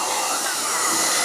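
Bosch cordless vacuum cleaner switched on, a loud steady high-pitched whooshing whine of the motor and airflow, running alone without pause.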